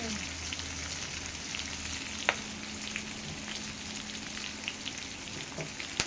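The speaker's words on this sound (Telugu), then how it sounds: "జీలకర్ర ఫ్రై అయిపోయింది." Cumin seeds frying in hot oil, a soft continuous crackling sizzle with a few sharp pops and faint clinks, close up and quiet, with no talk.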